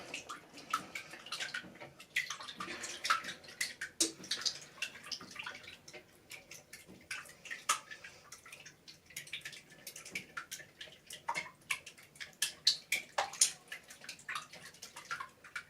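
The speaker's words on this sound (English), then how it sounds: "So I've got my eggs, my oil, and my vanilla in here, and I'm whisking it up." Eggs, oil and vanilla are whisked in a bowl, making a fast, irregular run of light wet clicks and taps against the sides that carries on steadily and close, with no talk.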